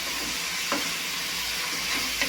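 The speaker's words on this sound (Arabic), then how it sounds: "نحرك مزيان هاد الخضره" Vegetables, including peppers and tomato, are stirred as they fry in olive oil with garlic and onion. A steady close sizzle and hiss carries scraping stir strokes throughout.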